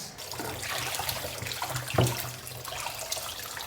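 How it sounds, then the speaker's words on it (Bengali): Tap water runs steadily into a sink while beef is washed for a spicy curry, a continuous splashing hiss with a brief louder gush near the middle, no talking. "মাংস ধোয়া দিয়ে শেষ"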